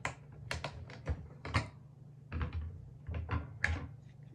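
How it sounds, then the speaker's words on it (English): A button press pushed down hard on a Cricut button-making press gives a run of close, sharp clicks and clacks in irregular bursts, with no voices. "You press down hard again. You're going to hear a little click."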